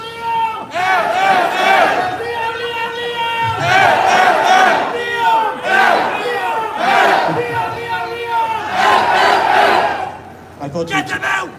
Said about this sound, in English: I thought you were cheering my name there for one second.